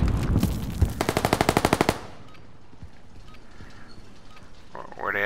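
Automatic gunfire in Call of Duty: Modern Warfare, a rapid, evenly spaced burst of about a dozen loud shots lasting roughly a second, followed by quieter game ambience and a faint rising effect near the end.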